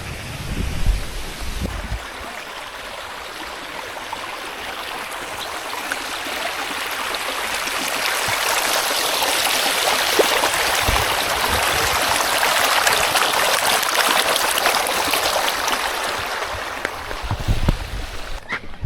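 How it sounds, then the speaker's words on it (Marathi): Water rushes steadily in a broad, continuous wash beside a path at a village fair near Pandharpur, growing slightly louder midway, with faint background noise and no clear voices. "या साईडला आहे पाणी दोन्ही साईडला आहे"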